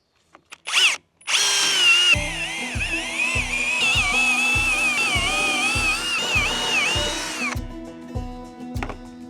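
A power drill whines loudly and continuously, pre-drilling holes for railing posts inside an off-grid cabin, its motor pitch wavering under load with a steady low pulsing and a brief burst at the start.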